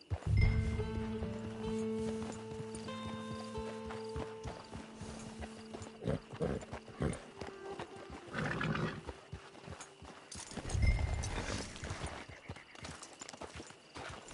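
Horse hooves clip-clop steadily through an open-world video game as a rider travels toward a camp, the clopping running under music and ambient noise with occasional louder bursts.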